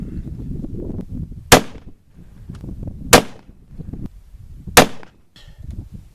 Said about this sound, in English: So let's shoot this Winchester and 180 grain, see what we can do.